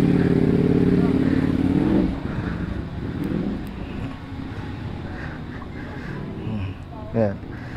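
A Ducati Diavel motorcycle of over 1000 cc idles with a deep, rumbling engine tone that is loud for the first two seconds, then settles lower and steadier while people talk nearby.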